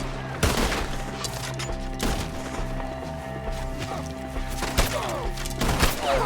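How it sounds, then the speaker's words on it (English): Gunfire rings out in a Red Dead Redemption 2 shootout against enemies up in the trees, with several sharp shots spaced across the scene over a steady backdrop of game music and ambience. "Shoot the ones up there first!"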